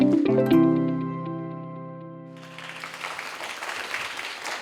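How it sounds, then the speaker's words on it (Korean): Applause from a lecture audience welcoming the head of Socket, a Jinju venue-matching company, rising after a sustained musical tone fades and continuing as a dense, steady patter of many hands. "여러분, 큰 박수 부탁드립니다."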